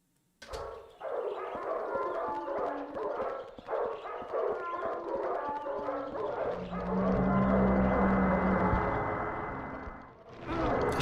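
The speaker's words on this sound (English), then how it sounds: "I just noticed you could kind of hear the dogs barking from outside" In the video game Silent Hill 4, dogs bark repeatedly outside, a run of yips and barks with some howling and whimpering, followed by a sustained howl-like tone. The sound is moderately loud and slightly distant.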